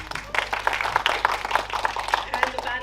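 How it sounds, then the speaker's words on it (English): An audience at a panel discussion on GenAI and compliance applauds the panelists, a steady patter of many hands clapping at moderate volume throughout. "A round of applause, ladies and gentlemen, for the panelists"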